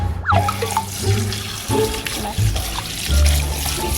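A large rock, apparently a dinosaur fossil dug up by an excavator, is rinsed under running tap water, a close, steady splashing and trickling with a few louder gushes and knocks.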